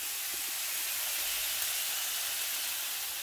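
Chicken sears in a hot pan, a steady close sizzling hiss that holds evenly throughout without break.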